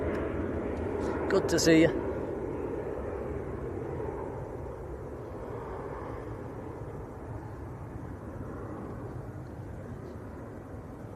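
A Jet2 Boeing 757 taxis out at Manchester Airport on its final passenger flight, its engines a steady low broadband roar throughout, with a person speaking briefly near the start.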